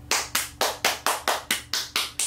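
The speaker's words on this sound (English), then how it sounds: "I might have to give you guys another round of applause" One person claps about ten times at an even, brisk pace, each clap sharp and close, with no voices.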